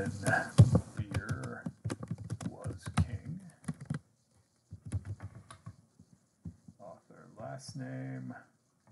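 Keys clatter on a computer keyboard as a book citation is typed into a reference manager, bursts of quick tapping mixed with someone talking over and between them.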